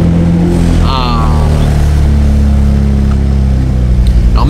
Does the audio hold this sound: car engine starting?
yes